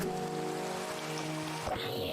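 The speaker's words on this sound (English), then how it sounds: "Of course, it's still freaking raining." Rain falls in the Minecraft video game as a steady, dense patter, with a sustained tone under it that fades out near the end.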